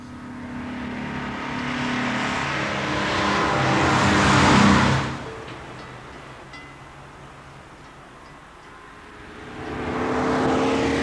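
A test car engine drones loudly as it drives past during road testing in 1982, fading away into a quieter stretch before another car approaches and grows louder.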